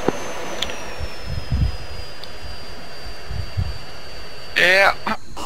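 Jet engine of a flight video game aircraft running at idle, a steady low rumble with a thin high whine slowly falling in pitch, heard under voice chat.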